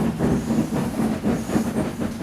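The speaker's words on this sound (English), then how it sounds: "The heavy train slowly began to move out of the station." A heavy steam train slowly pulls away from a station, its chugging and rumbling steady and moderately loud, with a low continuous drone and faint hiss running throughout.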